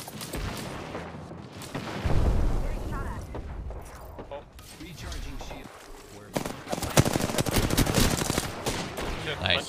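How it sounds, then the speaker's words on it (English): Bangalore's ultimate artillery strike in an Apex Legends match, a chaotic burst of booming impacts and gunfire that surges, fades and surges again, with players talking over it. "He's dropping a Bangalore ult."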